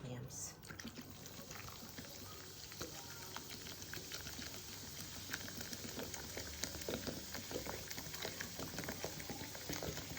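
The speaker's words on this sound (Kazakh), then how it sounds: "Енді қалған сарыағашты құямыз." Whey is poured over chopped vegetables for a cold okroshka soup, a continuous close bubbling, splashing liquid stream lasting the whole time, fairly quiet.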